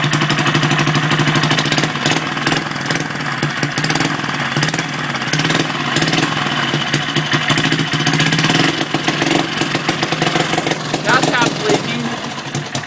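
A rebuilt Briggs and Stratton 2HP small engine runs up close with a loud, steady putter and rhythmic knocking exhaust pulses, wavering slightly near the end.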